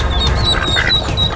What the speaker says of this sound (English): The mother duck is fighting for her family.